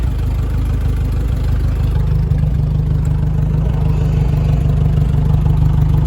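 A snow removal vehicle's engine idles steadily up close, a continuous low rumble with faint mechanical clatter running evenly throughout, no voices.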